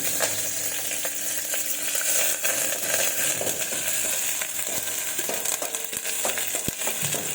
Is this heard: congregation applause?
no